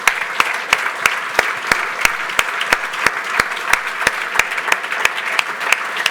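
Audience applause at a product keynote for a software launch event, steady dense clapping from a crowd sustained throughout, with sharp regular accents over the wash of hands, moderately loud and without speech.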